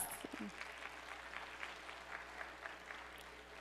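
An audience applauds at a business talk with steady, fairly distant clapping that continues evenly throughout, with no voices on top.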